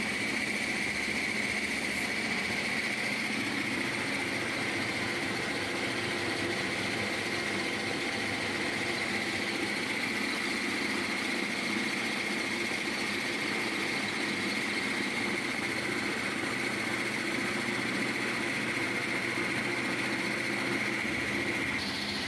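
A maize food-processing machine runs in Kaneshi market in Ghana, making a loud, continuous engine drone with a steady whine that stays unchanged for over twenty seconds, and no one speaks.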